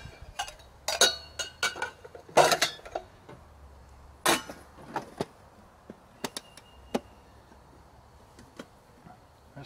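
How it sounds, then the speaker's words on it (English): Metal mess kit pieces clink and clatter as a cup is nested into a pot and a lid set on, a cluster of sharp close knocks early on, then sparser single taps. "Our cup goes in the pot. Lid on the pot."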